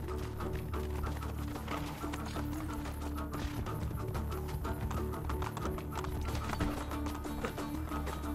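Horse in Assassin's Creed Brotherhood, quick rhythmic hoofbeats clopping continuously at a moderate distance beneath a steady wash of game music and background ambience.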